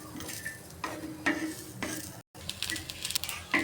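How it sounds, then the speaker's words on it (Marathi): Grated fresh coconut roasts on a hot griddle for a stuffed brinjal masala, giving a soft sizzle broken by a few scraping stirs of a spatula against the pan, close and fairly quiet. "आता हे ओले खोबरे थोडेसे भाजून घेऊ."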